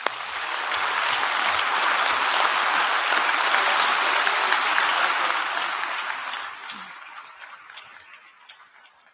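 Graduation ceremony audience applauding, a loud, dense wash of clapping that holds steady and then fades away toward the end.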